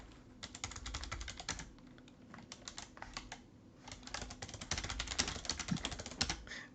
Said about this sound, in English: I'm just gonna sit here awkwardly typing.